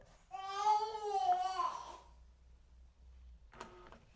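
A SmartWings motorized blind's motor whirs for under two seconds as it is programmed to a remote in a renovated 1930s bungalow window seat, then falls quiet before a brief faint mechanical blip.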